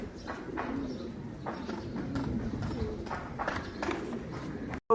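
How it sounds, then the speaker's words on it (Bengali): Racing pigeons returning from a 17-kilometre toss coo softly and repeatedly nearby as a pair lands, mixed with brief fluttering bursts and a low murmuring background. "পনেরো এবং ষোলো নাম্বার কবুতর দুটো একসাথে আসছে"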